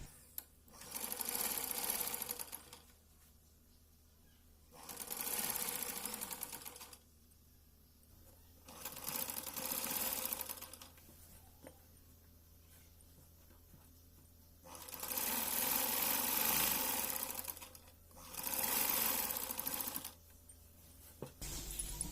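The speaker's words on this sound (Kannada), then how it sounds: "ಈಗ ನಾವು ಮಾರ್ಜಿನನ್ನು ಬಿಟ್ಟು ಸ್ಟಿಚ್ ಮಾಡ್ಕೋಬೇಕು" An electric sewing machine stitches the edges of old saree fabric in five separate runs of rapid, steady whirring, each lasting about two seconds with quiet pauses between them, close and clear with no talking.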